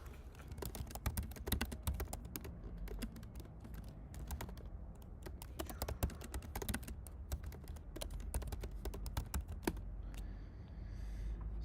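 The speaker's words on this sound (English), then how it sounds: "Just popping your keys in and out." Keycaps are popped off and pressed back onto a keyboard, producing dense irregular plastic clicks and snaps throughout, close and fairly loud with no talk.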